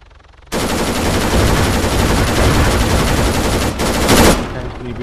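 Automatic gunfire in the military shooter game Arma 3, a dense, loud continuous burst of rapid shots that starts abruptly and runs for several seconds with a brief break near the end.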